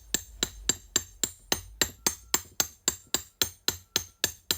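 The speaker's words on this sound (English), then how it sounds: "Now we're going to just take that socket and hammer our seal in" Crank seal on a Yamaha YZ125 being driven in with a socket and hammer, a steady rhythm of about fourteen sharp metallic taps at an even pace, close and alone.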